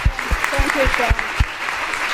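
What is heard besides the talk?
audience applause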